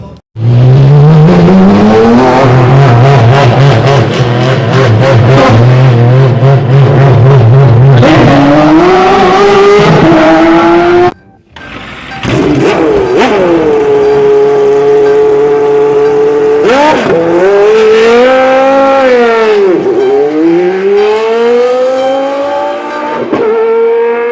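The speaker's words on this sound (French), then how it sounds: "GT3 R préparé par Porsche" A Porsche 991 GT3 R race car roars close by at full volume, its engine climbing through rising revs, cutting out abruptly in a brief gap, then returning with long sweeping pitch changes as it accelerates and shifts, alone without any voices.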